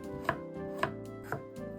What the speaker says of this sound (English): I slice it thinly.